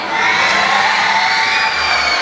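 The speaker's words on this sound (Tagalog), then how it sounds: "Wala po bang hiyawan dyan?" A big crowd cheering and shouting loudly at a beauty pageant's national costume segment, a continuous roar of voices with high whoops, sustained throughout.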